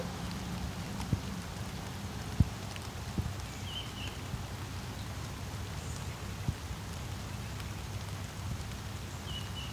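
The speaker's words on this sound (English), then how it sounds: "Now it's starting to rain." Rain falling outdoors near hornet nests, a steady soft hiss of drops with a few sharper taps on surfaces, faint and even throughout.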